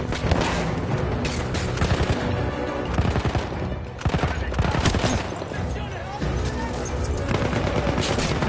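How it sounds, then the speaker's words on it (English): Dense submachine gun fire rattles through a loud, chaotic Battlefield 1 video game battle, with rapid bursts layered over booms and constant combat noise. "Submachine guns."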